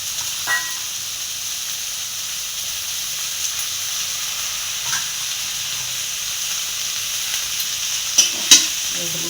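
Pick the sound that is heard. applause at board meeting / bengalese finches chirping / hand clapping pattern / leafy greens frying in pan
leafy greens frying in pan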